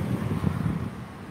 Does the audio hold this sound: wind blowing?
yes